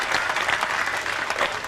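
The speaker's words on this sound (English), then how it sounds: "He just tanked the 99 ball and everybody was clapping there." Crowd applauding at a 2003 World 9-Ball Championship pool match, a dense, steady wash of many hands clapping at full strength with no voices over it.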